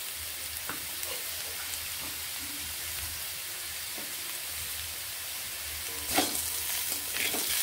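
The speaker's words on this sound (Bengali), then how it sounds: "এইভাবে আলুর সঙ্গে এখন পেঁয়াজগুলোকেও বেশ ভালোভাবে ভেজে নেব।" Potatoes and onions frying over a medium flame in a pan for a mixed vegetable fry, a continuous dense sizzle with faint stirring scrapes and a brief louder burst near the end, no voices.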